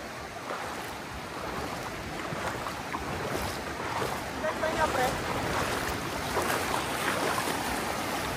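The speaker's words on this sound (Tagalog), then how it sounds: "Tinutulak na tayo ng alon, pre." Ocean waves pushing against a small boat at Magpupungko, Siargao, a steady faint wash of water and wind noise with voices speaking in the background.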